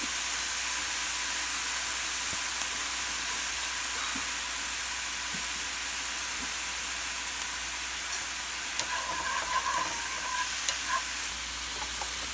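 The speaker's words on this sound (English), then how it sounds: "Just first putting the mushrooms in." Salted mushrooms sizzling in a hot pan, a loud continuous hiss of frying with faint scattered pops and a few brighter clinks near the end, close and steady without any talk.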